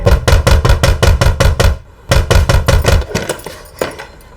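Loud, rapid wooden knocking on a door at night, two bursts of fast repeated blows with a short pause between, then a few scattered softer knocks trailing off.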